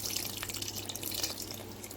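Tamarind juice poured into a pot of drumsticks cooking in a home kitchen; a steady, close splashing and trickling of liquid runs throughout, with no talk.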